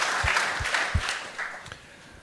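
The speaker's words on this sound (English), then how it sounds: "That deserves a round of applause." Conference audience at the Yalta European Strategy meeting breaking into a round of applause, a moderate, fairly distant wash of clapping that fades within two seconds.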